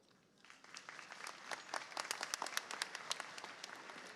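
Audience applauding graduates at the 2024 Cleveland School of Architecture & Design commencement: dense clapping that begins softly and swells into a steady, sustained round with sharp individual claps standing out, no voices over it.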